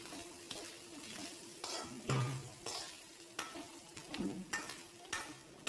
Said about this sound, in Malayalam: വെളിച്ചെണ്ണ ചൂടായതിന് ശേഷം നമുക്ക് നേരത്തെ തിരുവി വെച്ച തേങ്ങ അതിലേക്ക് ആഡ് ചെയ്യുക